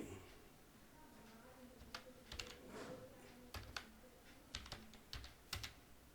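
A computer keyboard clicks in short irregular bursts as an item name is typed into Tally billing software, fairly close and quiet, with soft background room tone.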